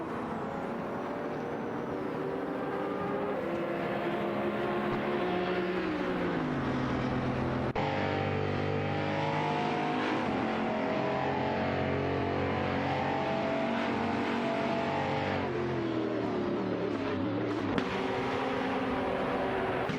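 Race cars including a McLaren, a Ferrari and a BMW M6 GT3 battle in a racing video game, with engines droning and revving steadily and gear shifts audible, a dense continuous pack with no speech.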